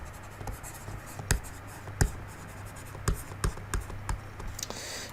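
Marker or chalk writing on a board during a math lesson, with scattered sharp taps and scratchy strokes over a steady low room hum, heard alone without talk.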